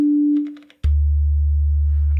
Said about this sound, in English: So we'll just start out with a sine wave